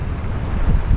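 Strong wind along the Dempster Highway rushes and buffets against the microphone, a steady low roar with a brief gusty swell, no voices.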